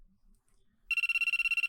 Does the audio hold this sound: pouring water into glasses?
no